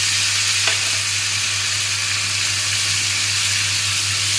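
Tomato paste and two spoonfuls of chili paste sizzling loudly in a frying pan, a dense, continuous hiss and spatter that stays even from start to finish.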